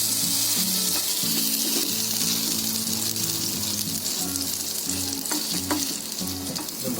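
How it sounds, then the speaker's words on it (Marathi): Vegetable sandwich toasting in butter on a pan, with a steady, close, loud sizzle and sputter that runs throughout and carries faint scraping underneath. "आता याच्यावरती परत बटर टाकायचा, म्हणजे हे वरची भाजी पण शिजली पाहिजे ना"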